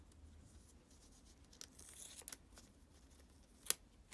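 Scissors snipping through the neck of a red latex balloon: a few faint, quiet cuts and rustles with one sharp clean snip near the end, close up in a quiet room.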